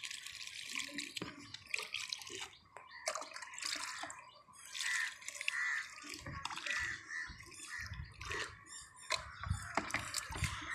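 Plants being watered in a garden of rose bushes and other shrubs, with irregular splashes, drips and trickles of water landing on leaves and soil, fairly faint and close, no talking.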